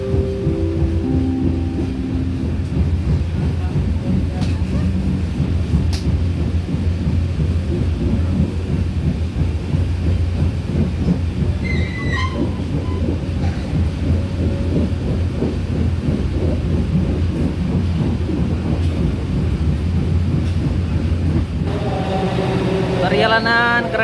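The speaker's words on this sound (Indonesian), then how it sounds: "Perjalanan kereta api Motis Selatan tiba di stasiun Lempuyangan." The Motis Selatan train arrives at Lempuyangan station with a heavy, continuous low rumble that persists for over twenty seconds, ending in a rising metallic squeal.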